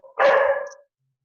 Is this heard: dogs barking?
yes